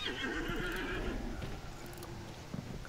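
A horse whinnies loudly in a long, wavering neigh in the game Hunt: Showdown, with hoof clops and background game sounds; it tails off into quieter rustling.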